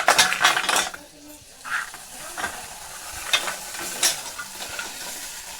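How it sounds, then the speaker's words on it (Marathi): Konkan river crabs are stirred and fried in masala in a hot pan, with bursts of crackling sizzle and scraping stirs rising and fading, close and fairly loud. "बघा असे परतायचे मसाला सगळ्याकडे लागा"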